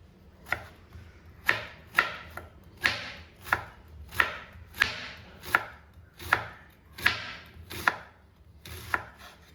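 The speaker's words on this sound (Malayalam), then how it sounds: "നമ്മുടെ ഫില്ലിങ്ങിന് ആവശ്യമായ ക്യാരറ്റും ക്യാബേജും സവോളയൊക്കെ നമുക്കൊന്ന് ചെറുതായിട്ട് അരിഞ്ഞെടുക്കാം" A knife chops carrot, cabbage and onion on a cutting board in a quiet kitchen, about a dozen crisp, evenly spaced strikes close by with nothing else heard.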